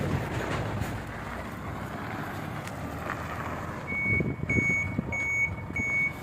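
A delivery truck reverses at a gas-block building site, its steady reversing beeper pulsing in even repeated tones over a low engine rumble and wind noise, fairly close.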